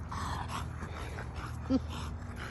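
A French Bulldog makes a brief low whine or yip amid outdoor background noise at a dog park, fairly faint and close.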